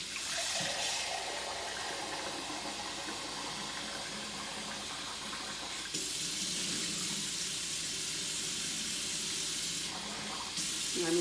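Hot water runs steadily from a kitchen tap into a measuring cup, a continuous close rushing hiss whose tone shifts slightly partway through as the cup fills.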